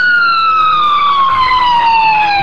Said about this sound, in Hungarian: A megkülönböztető jelzéssel együtt jár a hangjelzés, amelyre egy sziréna